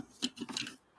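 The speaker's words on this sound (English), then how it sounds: "I'm going to go ahead and cut this. Wish I had some smaller scissors." Scissors snipping through paper while trimming a handmade spring journal at the edge of a corner, with several close, crisp cuts in quick succession, alone without talk.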